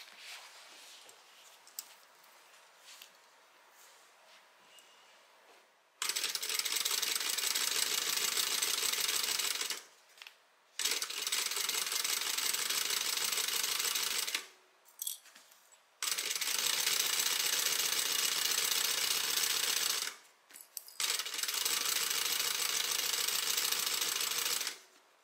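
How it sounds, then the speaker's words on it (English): A sewing machine stitches tote bag pieces together with a half-inch seam allowance, running in three long, loud, steady bursts separated by short pauses, after a quiet lead-in of faint handling. "we are going to stitch these together using a 1/2 inch seam allowance"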